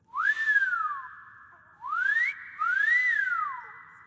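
Three long, rising-and-falling melodic whistles sound clearly and alone, each lasting about a second, from a horse whistle in the video game Skyrim.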